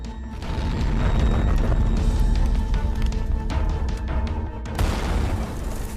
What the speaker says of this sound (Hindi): अचानक धमाका होता है